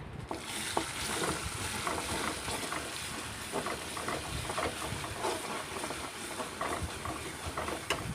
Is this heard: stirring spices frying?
yes